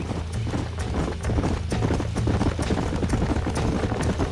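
Horse hooves gallop in the Red Dead Redemption video game, a fast, steady clip-clop rhythm that runs throughout, close and fairly loud, with rumbling movement underneath and no talk.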